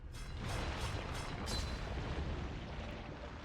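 A Pillar of Nirn explosion in Elder Scrolls Online gives a run of booming blasts at a steady pulse, then a dense, rumbling wash that fades slowly.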